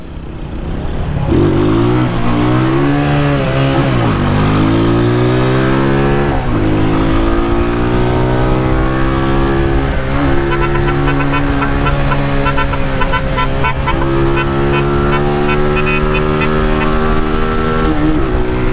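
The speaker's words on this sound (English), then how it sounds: "Rev out the little bike." A small motorcycle revving on a road in Jamaica, loud and close, its engine whine climbing and falling through repeated throttle blips before holding a sustained high-pitched drone.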